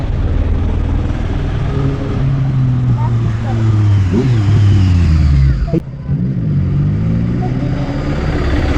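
A motorbike engine roars and revs close by on a road, a loud, steady rumble with rising and falling pitch sweeps and a brief dip partway through.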